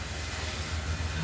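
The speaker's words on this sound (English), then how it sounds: "The neighbours are pressure cleaning the veranda." A continuous hiss and low drone from a pressure cleaner next door working on a veranda, constant in level throughout with no voices over it.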